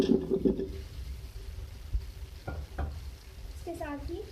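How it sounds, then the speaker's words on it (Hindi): Potatoes tipped into a pan of frying spices for aloo matar tahari, giving a short stirring and sizzling clatter with a few soft knocks, moderately close, with a brief rising squeak near the end. "अच्छा देखिए, अब मैं इसमें आलू ऐड कर रही हूँ"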